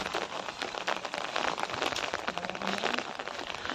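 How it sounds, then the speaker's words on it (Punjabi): Morning rain falling outdoors: a steady, dense hiss of drops striking surfaces, with continuous patter and no voices. "ਸਵੇਰੇ ਸਵੇਰੇ ਮੀਂਹ ਪੈ ਰਿਹਾ"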